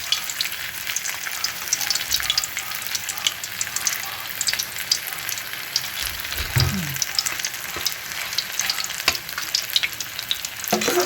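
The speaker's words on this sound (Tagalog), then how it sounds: "Prito lang natin siya." Steady, dense sizzling of spring rolls frying in hot oil, crackling continuously at close range with occasional louder pops and brief stirring.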